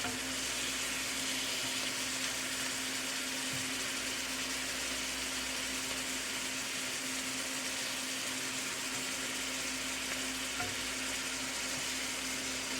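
Shrimp frying for Nigerian fried rice, a steady, even sizzle in a hot pan with a constant low hum underneath and an occasional soft knock as pieces are turned.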